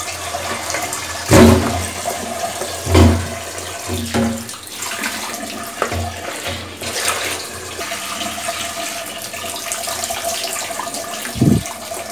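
Tap water pours steadily over cut sweet pumpkin pieces being washed in a home kitchen, a continuous rushing stream broken by a few louder splashes and knocks as the pieces are handled.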